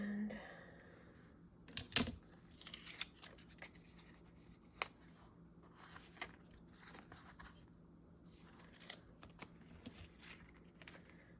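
Scissors snip paper into a tag shape in a series of faint, scattered cuts, each a short crisp click at close range against a quiet background.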